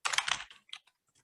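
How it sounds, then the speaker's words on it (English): A computer keyboard clatters: a quick close burst of keystrokes, then a few scattered lighter taps fading out, with no voices. "we're just selecting a box and typing using our keyboard to add this information"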